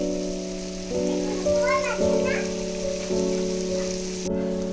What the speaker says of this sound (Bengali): মানগুলোকে দু তিন মিনিট মতন আমি ভালো করে ভাজা করে নিয়েছি